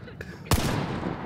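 A single sharp gunshot from the Hunt: Showdown video game, loud and close, cracking out about a third of the way in with a decaying tail, after a fainter click, under quiet game ambience.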